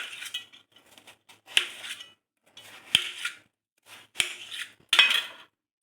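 A knife cuts watermelon into shapes with intermittent crisp slicing and scraping strokes, light clinks against a plate and short quiet gaps between cuts. The sound is close, and nobody speaks.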